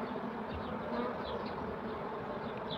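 Honey bees buzz in an opened hive in mid-May, a dense, continuous drone close by that fills the whole moment with no voices.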